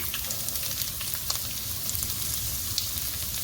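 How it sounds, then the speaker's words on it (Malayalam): Mustard seeds and garlic fry in hot oil for a beetroot pickle, giving a steady dense sizzle with scattered sharp pops and crackles, close and continuous with no voices. "ഇനി നമുക്ക് കടുകിട്ട് പൊട്ടിക്കാം. വെളുത്തുള്ളി ഇനി ഇട്ട് കൊടുക്കാം."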